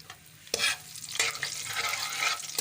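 Dried chilies and cumin seeds sizzling in hot oil for a curry pakora tempering, with a spoon stirring in sharp bursts over a steady close crackle.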